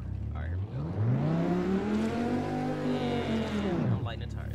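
A car engine revs hard in a sim racing video game played on a Logitech G920 wheel, pitch climbing, holding high, then dropping away, loud and close with a faint tire squeal.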